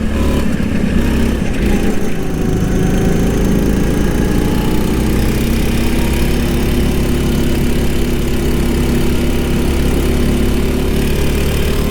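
A go-kart engine on a track at a karting club in Lahore, droning loud and steady close by as it winds back up, with no talk over it.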